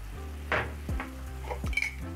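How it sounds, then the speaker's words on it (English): Tomatoes cooking with tomato paste in a pan, a low sizzle under a few scraping stirs of a utensil against the pan, close with no voices. "Then I'll let my tomatoes cook together with the tomato paste"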